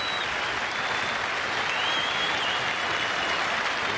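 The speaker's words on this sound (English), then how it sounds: "Applause from David Gower's England teammates in the dressing room." Cricket crowd at Adelaide in 1983, including England teammates in the dressing room, applauds a century in a steady, even wash of distant clapping that holds throughout without any break.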